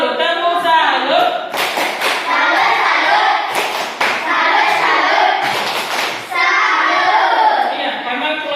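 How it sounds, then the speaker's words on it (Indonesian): Students in a classroom perform a rhythmic "tepuk salut" clapping cheer, with bursts of loud, close hand claps in patterned groups mixed with children's voices chanting along. "berikan tepuk salut untuk kelompok paru-paru"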